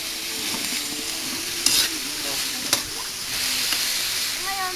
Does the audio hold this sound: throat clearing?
no